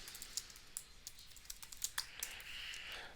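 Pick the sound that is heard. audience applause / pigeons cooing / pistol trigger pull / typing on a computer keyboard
typing on a computer keyboard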